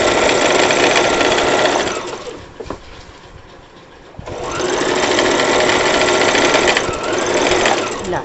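A sewing machine stitching a salwar runs in a steady, loud whirring buzz close up, slows and nearly stops for about two seconds, then picks up again at full speed.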